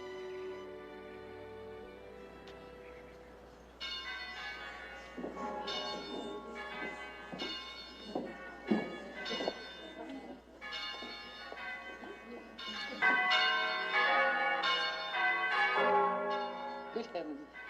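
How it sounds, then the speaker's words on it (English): Many church bells at an abbey ring together in a dense, overlapping peal that swells and clangs continuously, loud and near, with no pause between strokes. "Mother, all the bells at once."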